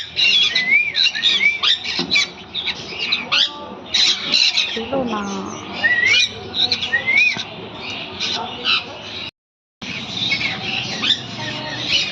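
Conure parrots at a bird park in Baruipur give repeated sharp squawks and chirps, loud and close, mixed with people talking nearby and a brief gap of silence.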